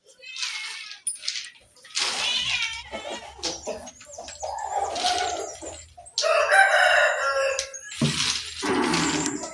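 A rooster crows loudly nearby, with repeated crows mixed with clucking from other chickens.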